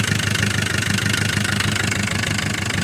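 A tractor engine idles steadily just after starting, a loud, even mid-pitched rumble with a regular knocking pulse and no voices over it.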